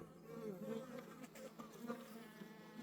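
Wild bees buzz close by at a hive entrance, a busy overlapping drone of wings with individual insects swelling louder as they fly past.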